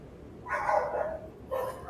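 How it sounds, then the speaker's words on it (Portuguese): Two short bursts of dog barking at a distance, separated by a brief pause, over a faint background hum. "estão ouvindo os cachorros?"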